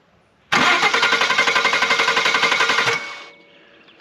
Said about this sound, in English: obviously our starter and our solenoid are good because you just heard the engine crank over